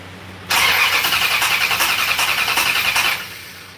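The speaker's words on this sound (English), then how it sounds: "I just cranked over the engine for fun." A 1969 Dodge Charger engine cranked over with no fuel, the starter churning steadily for about two and a half seconds, close and loud, then stopping without the engine firing.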